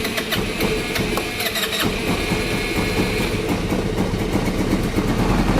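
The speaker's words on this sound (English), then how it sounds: "now I'm going to apply just a little bit of throttle on this first startup" A Genuine Buddy scooter engine, freshly serviced at the carburetor, cranks and catches with a little throttle, then settles into a loud, steady, close idle.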